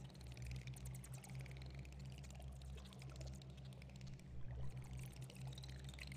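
A zombie thrashes in water in the video game Thief, a faint run of splashing and pouring water over a low steady hum, quiet and continuous with a slightly stronger surge near the end.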